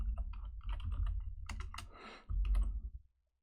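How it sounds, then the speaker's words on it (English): Close, quick typing on a computer keyboard, with bursts of clicky keystrokes over a low thumping background hum. A short pause comes before a final flurry, then the sound stops. "let me just type something here first"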